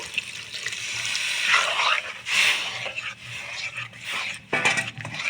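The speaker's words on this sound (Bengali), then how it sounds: "ডালের সঙ্গে মশলাটা আমি কষিয়ে নিয়েছি এখন আমি জল অ্যাড করে দেব" Water poured into a pot of spiced lentils with winter vegetables cooked in a Bengali kitchen, an uneven splashing pour with sizzling and bursts over several seconds, close up.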